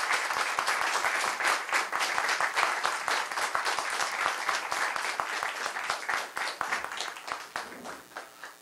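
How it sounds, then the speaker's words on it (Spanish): A church congregation claps together in a long round of applause, many hands close and steady, thinning into scattered claps as it winds down. "Le damos un aplauso al Señor."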